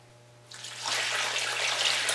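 Water starts pouring into a pot of salt and sugar and keeps running in a steady, splashing rush.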